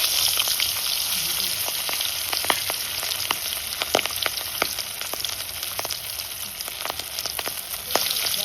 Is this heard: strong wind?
no